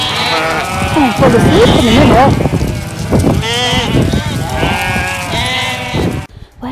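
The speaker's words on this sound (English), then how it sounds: "even a herd of sheep thrown in for good measure" A flock of sheep bleats repeatedly and close by on a Yorkshire Dales hillside, overlapping calls rising and falling while a person speaks briefly over them.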